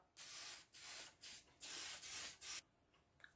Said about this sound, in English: hit it with a spray adhesive.